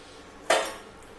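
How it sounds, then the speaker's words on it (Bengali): A metal wok, or kadai, set down on a kitchen gas stove gives one short, sharp clank that fades quickly in a quiet room. "প্রথমে কড়াইটা বসিয়ে দিলাম"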